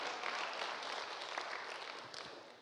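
A church congregation clapping together, a steady wash of applause lasting throughout and fading slightly toward the end, with no voices over it.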